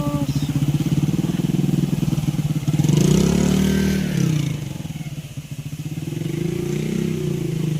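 A motorcycle idles close by with a steady low putter, revs briefly, then settles back to a rumbling idle after a rider climbs off on a wet day.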